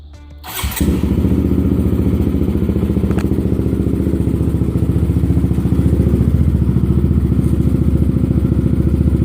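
A Honda CBR150R motorcycle engine fires up and settles into a loud, steady idle, its exhaust popping in a fast, even rhythm close by.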